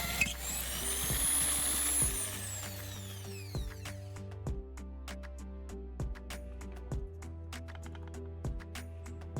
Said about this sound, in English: I'm going to use the drill to make a precise hole through the mark I've made